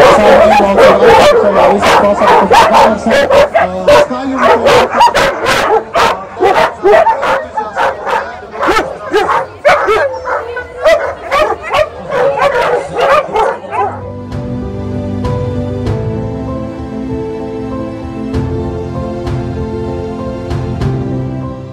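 Excited dogs at a canicross race, many sharp barks and yips in quick overlapping bursts close by, then cutting off as other sound takes over for the rest of the stretch.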